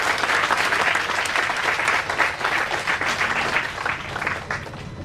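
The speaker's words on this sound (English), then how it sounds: "Can we once again give cheers to ourselves and a big round of applause?" A Women's Day celebration audience breaks into a big round of applause, dense sustained clapping filling the hall at close range, loud and steady for several seconds without letup.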